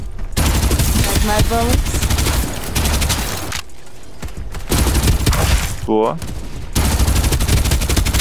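Rapid bursts of gunfire in the battle royale game Farlight 84, several dense volleys with short gaps, loud and close, while players talk over the shooting.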